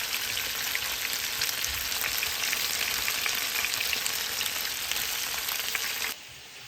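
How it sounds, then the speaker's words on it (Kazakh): Chicken fries in a pan under a lid over low heat, giving a steady, dense crackling sizzle that runs evenly for several seconds before dropping off abruptly near the end. "Енді келесі біздің тауығымыз қуырылып жатыр"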